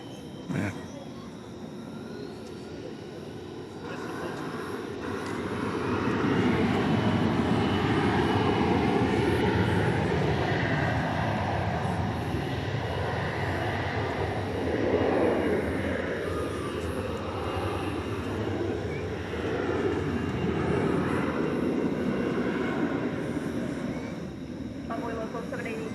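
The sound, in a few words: Qatar Airways airplane taking off at DFW airport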